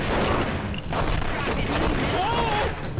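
Rapid bursts of gunfire in The Punisher video game fill the whole stretch loudly and densely, mixed with game voices and effects.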